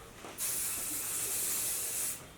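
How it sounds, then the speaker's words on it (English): Hairspray sprays onto styled curly hair in one steady, loud hissing burst lasting about two seconds, starting and stopping cleanly. "you go in with a little more hairspray if you want to"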